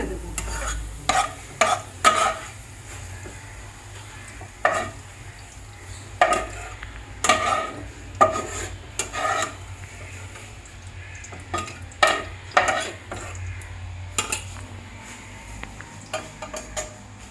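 Carrots and vegetables sizzle in hot oil in a kadai while a spatula stirs them in irregular scraping strokes against the metal, over a low continuous frying hiss.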